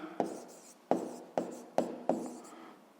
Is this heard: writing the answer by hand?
yes